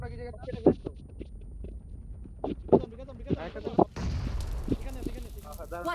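A grenade blast in the PUBG Mobile battle royale game, heard as a sudden loud broadband burst at about four seconds, its noisy rumble lingering under excited team chatter that runs before and after it.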